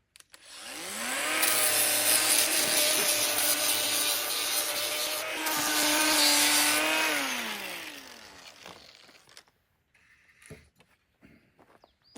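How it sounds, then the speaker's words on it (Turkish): A power sander with coarse 40-grit sandpaper whirs up and runs against wood for several seconds with a rising, shifting grinding tone, then winds down to quiet handling noises. "Şimdi kırklık zımparayla burayı biraz temizleyeceğiz."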